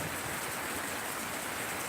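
Heavy flooding rain after four days of downpour pours in a dense, steady hiss that fills the space without pause.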